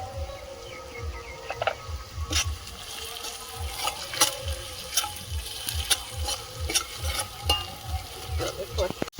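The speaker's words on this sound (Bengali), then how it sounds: "মশলাটা ভালোভাবে কষিয়ে নিয়েছি" Spices sizzling and being stirred in a pan while chicken curry is prepared, seasoned with chilli powder, turmeric and salt, with scraping strokes of a spoon against the pan over a steady frying hiss, close and moderately loud.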